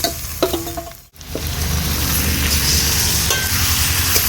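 Marinated chicken hits a pan of lightly fried onions for a winter-vegetable chicken stew, bursting into a loud, steady sizzle after a brief hush, with stirring scrapes on top and no voices.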